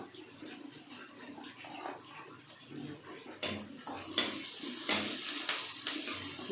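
Curry leaves frying in a pan with onions, a continuous sizzle that turns louder and busier midway, with stirring scrapes and utensil clinks close by, no voices.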